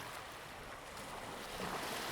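Ocean waves wash onto Dumas Beach at night as a steady, broad surf roar, with rushing wind over it and no voices.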